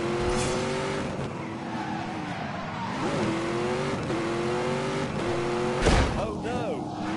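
A racing car's engine held at full throttle in The Grand Tour Game, revving in repeated rising pulls as gears change, loud and steady throughout, with a sharp burst near the end and a voice talking over it.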